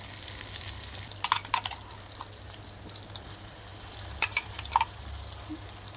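A paste of garlic, coriander, ginger and cumin sizzles in hot oil with a steady frying hiss, broken by a few sharp crackles and spatters, close and moderately loud with no talk.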